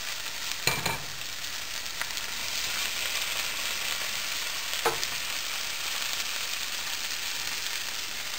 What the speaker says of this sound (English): Now I am adding all dal or lentils.